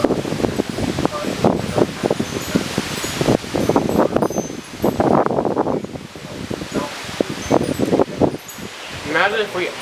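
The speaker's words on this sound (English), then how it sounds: "Here comes another bad gust." Damaging wind gusts from a severe sunset thunderstorm roar and rustle through trees in surging bursts. A voice talks over the wind in places.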